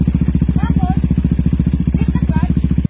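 A motorcycle engine idles just after ignition with an even, rapid low chugging throughout, close and loud, while someone speaks over it.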